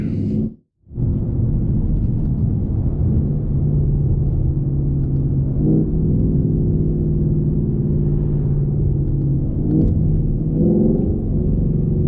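A Lund-tuned 2019 Ford Mustang GT V8 drones steadily from inside the car while driving gently in second or third gear between 2,500 and 5,000 rpm. The loud, continuous engine rumble cuts out briefly near the start and shifts slightly in pitch a few times.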